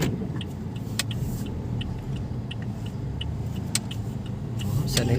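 A car's engine runs steadily while reversing, a close, low continuous rumble with a few faint clicks, no talk over it.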